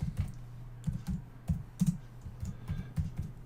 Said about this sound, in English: type that in there